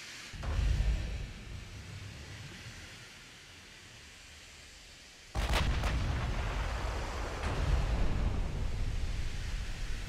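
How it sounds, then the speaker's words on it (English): Naval guns fire in a battleship duel between HMS Nelson and Richelieu in Ultimate Admiral Dreadnoughts: a booming shot, a quieter lull, then a loud salvo with sharp blasts followed by a sustained rumbling roar. "the shells are landing far and wide, but definitely not on top of the target"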